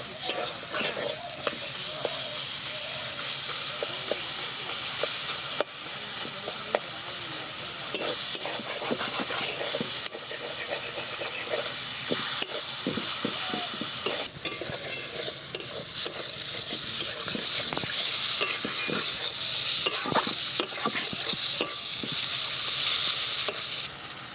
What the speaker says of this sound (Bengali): এবার এগুলোকে একটু ভালো করে আগে কষিয়ে নেব